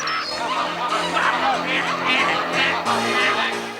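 A flock of ducks or geese honks and quacks noisily, overlapping calls continuing throughout, fairly close and loud.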